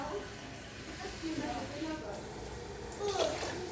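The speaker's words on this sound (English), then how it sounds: "Okay, now we're going to add 6 cups of water." Water poured into a cooking pot to boil rice in a home kitchen, a soft, steady splashing stream that swells louder near the end, heard close and alone.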